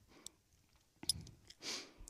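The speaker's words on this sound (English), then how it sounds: "he's licking and chewing" A horse licks and chews at close range, with soft wet smacks and mouth clicks, a brief sharp crunch and a breathy exhale, all quiet in a still setting.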